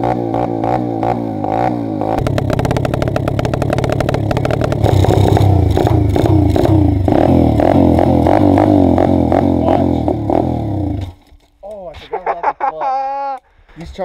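A Chinese dirt bike engine runs loud and close, revving up with a busy clatter that holds steady, then cuts out abruptly, after which a voice speaks.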